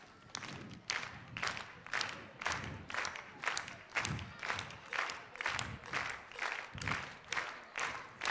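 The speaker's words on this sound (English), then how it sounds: "Let's all start clapping like this." Children's TV studio audience on a beach set clapping hands together in a steady, even rhythm of about two claps per second, moderately distant and alone without talk.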